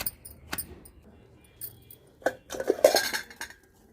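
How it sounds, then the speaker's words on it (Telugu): Guava and tomato chutney is ground in a stone mortar, with scattered knocks and gritty scraping strokes that build into a denser rubbing burst, close and with no talk. "జామకాయ టమాటా పచ్చడి రోట్లో నూరుతున్నానండి"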